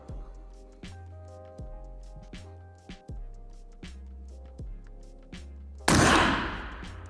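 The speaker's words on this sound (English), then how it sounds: "So now I'm going to shoot" A gun fitted with a Griffin Armament heads-up sight fires one loud, sharp shot at a target near the end, after a stretch of steady, stepped tonal sounds.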